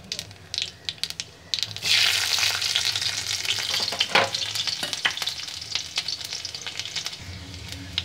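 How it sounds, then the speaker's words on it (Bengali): Black cumin seeds and garlic frying in mustard oil, a dense, loud crackling sizzle close up that swells after a few scattered pops, with scraping stirs of a spatula through the oil. "কালো জিরে রসুনটা ভাজা ভাজা হয়ে গেছে"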